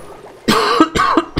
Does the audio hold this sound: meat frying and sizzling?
no